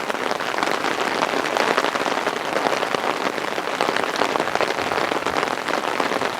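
Rain falls steadily and fairly loud, a dense even patter on surfaces with no breaks and no voices.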